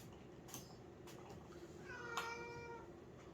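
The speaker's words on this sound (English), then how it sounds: "Even the cat's crying." A cat gives a faint, distant meow, one thin wavering cry near the end rising over a steady background hiss, with soft indistinct sounds around it.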